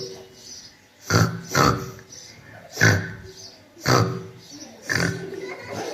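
A voice imitates fighting pigs with a series of loud, rough grunting and snorting bursts, repeated about every second, close to the listener.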